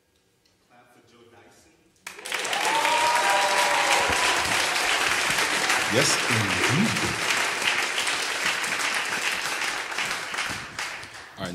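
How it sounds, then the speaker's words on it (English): Loud, sustained audience applause breaks out after a quiet moment at a jazz concert, continuing steadily for several seconds while a voice speaks briefly over it. "Clap for Joe"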